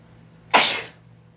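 A single sharp sneeze bursts out abruptly, loud and close, then fades quickly into quiet.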